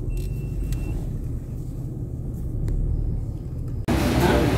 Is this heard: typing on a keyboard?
no